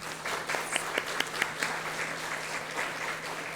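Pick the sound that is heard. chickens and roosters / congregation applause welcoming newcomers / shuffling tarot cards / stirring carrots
congregation applause welcoming newcomers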